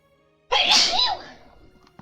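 A single loud sneeze bursts out close by, trailing off into a quiet breath.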